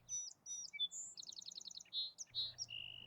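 An American robin sings a quick series of clear, varied chirps and whistled phrases, close and alone against a quiet background.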